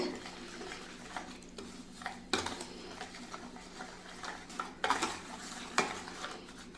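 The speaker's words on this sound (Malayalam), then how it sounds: "ഞാൻ കുറച്ച് പാൽ ഒഴിച്ചൊന്ന് മിക്സ് ചെയ്ത് നോക്കുകയാണ്" Milk being stirred into a papaya pudding mixture comes through as quiet clinks and scrapes of a spoon against a pot, with soft intermittent knocks and stirring strokes.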